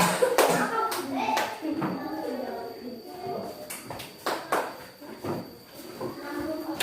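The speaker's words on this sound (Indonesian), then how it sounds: "Ya, kita beri tepuk tangan." A fourth-grade elementary class clapping in a classroom, with scattered, uneven bursts of hand claps and taps rising over a busy background of children's voices and an adult talking, with shuffling between claps.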